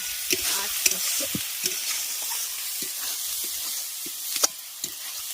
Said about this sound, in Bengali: আলুটা দিয়ে মশলার সঙ্গে ভালো করে কষিয়ে নেবে